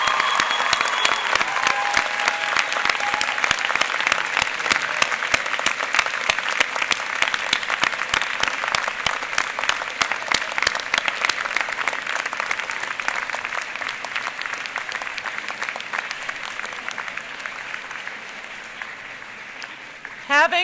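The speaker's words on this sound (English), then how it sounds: "show your appreciation for the support of your parents, family, and friends by giving them a big round of applause" A big round of applause from university convocation graduates, crisp individual claps standing out in a long sustained wave that gradually thins and softens over about twenty seconds.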